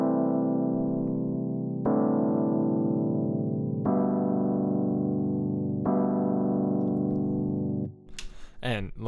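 A jazz chord progression built on the pentatonic scale, played as four sustained synth chords about two seconds apart, each decaying slowly. A voice begins speaking at the end.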